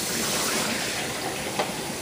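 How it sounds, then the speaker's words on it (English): Running water from a tap pours steadily over canned beans being rinsed, a continuous close hiss without talk. "wash a lot of that off of these beans because there's no reason to have that in our food"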